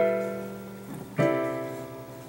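Jazz piano chords in rootless voicings, one sustained chord decaying and then a fresh chord struck, quiet and close.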